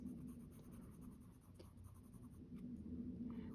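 Colored pencil drawing a wet hare on paper gives a soft, faint, continuous scratching close to the microphone, with no talking.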